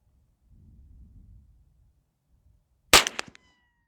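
Gunfire at an outdoor shooting range aimed at a target: a single sharp, loud report near the end with a brief ringing echo, after a quiet stretch holding only low rumbling handling noise.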